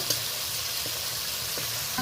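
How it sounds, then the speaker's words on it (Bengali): Ghee frying in hot oil in a pan, with a steady close sizzle and soft stirring scrapes running throughout, no voices. "এক সাইডে আমি তেলের মধ্যে ঘিটা দিয়ে দিয়েছি। ঘিটা একটু শক্ত হওয়া পর্যন্ত অপেক্ষা করব।"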